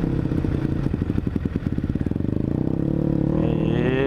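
A sport motorcycle engine chugs close by at a track day in rapid, uneven pulses, then smooths into a steadier, higher drone as it revs.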